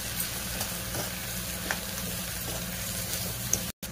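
Soaked puffed rice upma with curry leaves, beans, turmeric and salt being stirred in a pan, a steady low sizzle with a few soft scraping strokes, close and unbroken, with no voices.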